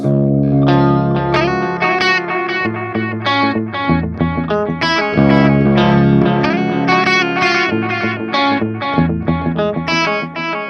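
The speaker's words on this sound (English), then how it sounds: "So I'll turn the effects back on and it sounds something like this." Electric guitar playing a fast, busy riff from a song drenched in effects, with distortion, chorus and echo, loud and continuous throughout.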